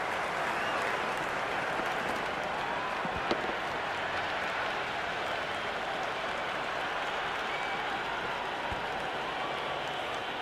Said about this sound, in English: There's a buzz, a real buzz coming from the stands.